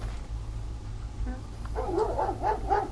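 Dogs bark in the video game Paranormal: a run of several close, repeated barks and yips in the second half, over a steady low background hum.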